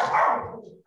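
One short, sharp dog bark rings out indoors and quickly fades away.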